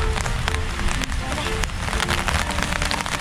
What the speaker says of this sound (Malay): Hari lah hujan